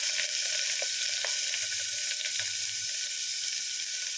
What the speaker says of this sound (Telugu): ఆ పచ్చిశనగపప్పును కూడా వేసేస్తున్నాం